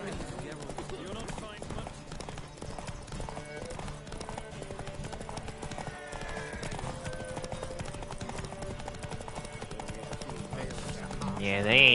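Rapid, steady clip-clop of a horse galloping in a race in the Witcher video game, continuous and close, with game sounds and a voice talking over it.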